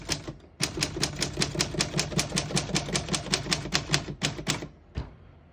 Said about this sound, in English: As you can see, all the keys type perfect and none of them stick.